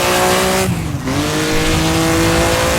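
A race car in Assetto Corsa, driven without brakes, downshifts through the gears: a loud, steady high-revving engine drone with a brief dip and blip as the revs drop and climb again, up close and alone.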